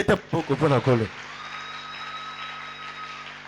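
A church congregation at a French-language thanksgiving service breaks into steady applause that carries on alone after a short burst of speech.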